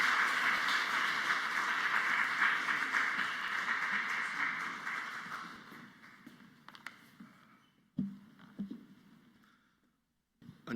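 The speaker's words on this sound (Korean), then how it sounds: "뜨거운 박수로 환영하도록 하겠습니다" Warm applause from a church congregation welcoming a guest preacher at an officer dedication worship service at Jisan Church in Bucheon; steady clapping fills the room, then gradually thins and fades to near quiet with a few scattered sounds.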